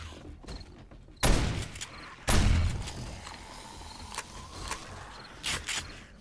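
Pump-action shotgun in 7 Days to Die, two loud close blasts about a second apart, then quieter clicks and thuds of handling and footsteps.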